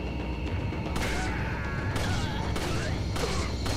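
Rapid gunfire bursts from Resident Evil 4 (2005), several loud shots in quick succession over a dense, continuous game soundscape.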